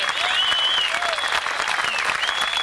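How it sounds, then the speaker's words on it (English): Dense, sustained audience applause fills a jazz concert at an outdoor birthday celebration in 1990, a loud, even wash of clapping greeting a performer's introduction, with a few scattered whoops rising above it. "by the round of applause that he's receiving"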